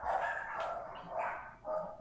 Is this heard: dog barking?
yes